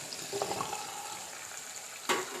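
Sautéed onions slowly stirred in a frying pan, a soft continuous sizzle with gentle scraping, then one brief louder clatter near the end.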